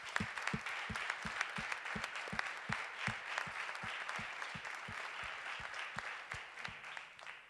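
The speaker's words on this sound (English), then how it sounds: "A big applause for you." An audience at a botnets security talk breaks into sustained applause, a dense faint wash of clapping with a steady rhythmic pulse of unison claps running beneath it throughout.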